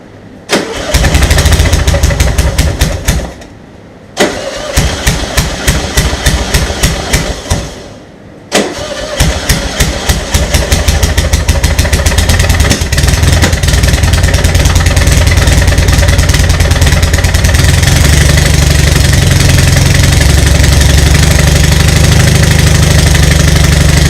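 A Volkswagen Bug engine fitted with J pipes cranks twice in short loud bursts, then catches and settles into a steady, loud, close-up idle with a knocking rumble.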